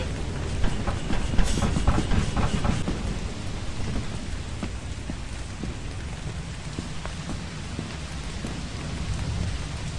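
Rain and thunder meme sound effect: a steady heavy downpour with deep rumbling thunder, loud and continuous throughout.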